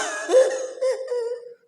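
A single person coughs sharply twice, close and loud, with a rough throaty tail, heard alone without other talk.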